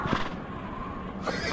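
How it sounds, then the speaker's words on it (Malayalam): A horse in a western video game whinnies loudly and close, one short neigh with hoof clops around it. "ഓക്കെ, കുതിര വാടാ"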